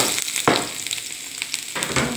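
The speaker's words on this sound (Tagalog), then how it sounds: "nag-hot na tayo ng pan at lagay na natin ang ating garlic" Garlic frying in a hot pan for Salmon Sinigang with lemon, giving a steady crackling sizzle with a few sharper pops, close and even throughout with no talking.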